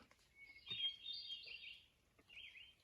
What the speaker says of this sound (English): Got a few birds chirping